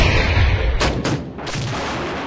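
A Panzerhaubitze 2000 self-propelled howitzer fires two heavy booming shots in quick succession, each with a sharp blast and rolling rumble over a loud low background.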